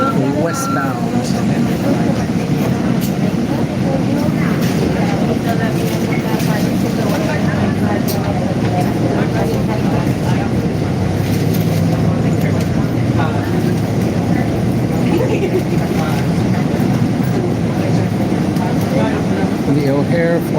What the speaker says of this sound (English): We're now on the 74 Fullerton CTA bus heading westbound.